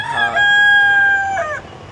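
A rooster gives one loud, close crow on a farm, a sustained harmonic cock-a-doodle-doo lasting over a second with a rising turn at the end. Faint background noise follows.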